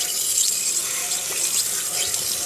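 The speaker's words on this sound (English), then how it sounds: "turn on the valve and put it on full and start spraying" Steady, hissing spray of water from a wand at full flow, flushing out the tank of an Atwood RV water heater, constant and close with no pauses.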